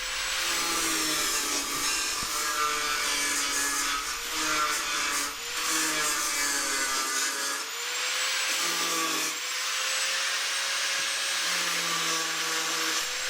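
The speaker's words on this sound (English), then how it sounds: "trimming back the welds using a flat disc on the grinder" Angle grinder with a flat disc trimming back welds around a car's rear window surround during a Daihatsu Charade body restoration; a steady, continuous whining grind that holds close and loud throughout, with shifting pitch as the disc bears on the metal.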